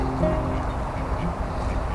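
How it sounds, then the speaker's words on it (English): Ducks quacking on the water at Craigellachie National Nature Reserve, several close, loud quacks in quick succession over outdoor ambience, with no one speaking. "Some ducks."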